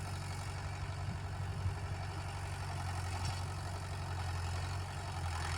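A Mahindra Yuvo Tech Plus 575 4WD tractor ploughs heavy clay soil, its engine holding a steady, low, droning rumble that sounds somewhat distant and subdued throughout, with no voices.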